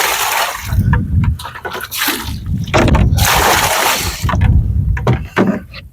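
Water poured by hand onto rainbow minnows in a lakeside trap, coming in loud, splashy bursts with brief pauses between pours.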